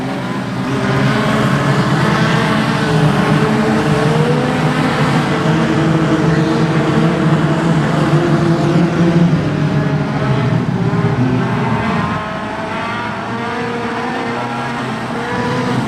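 National 4's race cars lap Kingaroy Speedway, a steady loud roar of several engines with layered, wavering tones that holds throughout and eases slightly near the end, with no voices.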